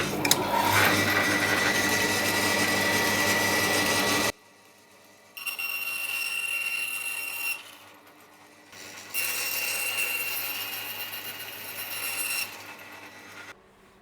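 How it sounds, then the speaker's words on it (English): A bandsaw cuts through QR code sign blanks in loud bursts of high whining, separated by short quiet pauses, with no talking. "You can see here that the bandsaw just ripped through."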